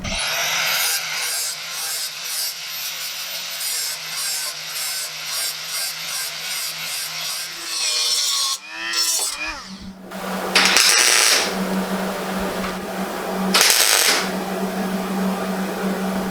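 Tack welding on a Triumph TR4 rear deck repair panel: a steady, loud buzzing crackle of the welder runs for about eight seconds, broken by short gaps. After a brief pause, shorter bursts of buzz and hiss follow.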